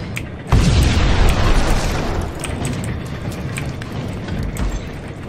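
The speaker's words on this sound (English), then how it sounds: "this might be a good place for a grenade" Grenade blast in the video game Max Payne, a loud close boom with a deep burst that decays into a long rumbling tail and scattered debris clatter.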